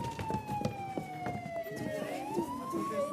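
A police car siren wails in a slow rising and falling tone at moderate distance, heard over scattered clatter and knocks.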